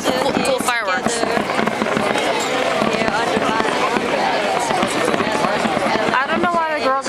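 Fireworks exploding over Florence during the San Giovanni festival, a dense continuous crackle and boom layered under steady crowd noise with voices talking and singing throughout.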